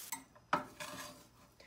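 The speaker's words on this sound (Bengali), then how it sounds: "এবার গ্যাসটা আস্তে করে দিয়ে আমি ভালো করে ডাল বাটাটার সাথে প্রতিটা জিনিস মিশিয়ে নেব।" A utensil scrapes and clinks against a pan while mixing ground lentil paste with dried chili and cumin powder over low heat for kachori filling: a few distinct metallic knocks and scrapes, close and fairly quiet.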